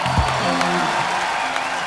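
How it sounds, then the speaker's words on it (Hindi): Studio audience at a comedy talk show clapping to welcome Riteish Deshmukh, a steady dense patter of hands running throughout with music tones playing over it. "एक बार रितेश देशमुख के लिए जोरदार तालियां।"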